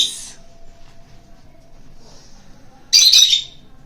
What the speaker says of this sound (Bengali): অন্য পাখি ভাবতেছে ওর বাবাকে মারতেছে, সেজন্য ওরা আবার চিল্লাচিল্লি শুরু করছে